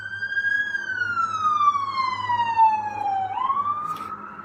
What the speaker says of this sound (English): Someone is hurt, so there's an ambulance driving by.